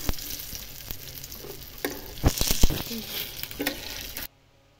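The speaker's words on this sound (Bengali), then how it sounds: "এবারে উল্টে অন্য সাইড একটু ভেজে নেব।" Lentil and shrimp fritters (dal chingri bora) sizzle steadily in a hot pan of oil, with spattering crackles and a few sharp clunks as they are flipped to the other side, ending in abrupt silence.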